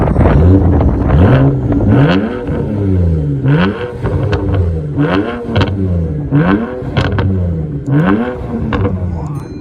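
A BMW 335i, tuned past 440 hp with rear-wheel drive, revs hard and close: repeated rising and falling engine sweeps follow one another steadily, loud throughout.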